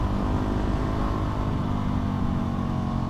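A Yamaha WR 250 supermoto motorcycle engine runs with a loud, rough, steady rumble for a few seconds, alone without talk.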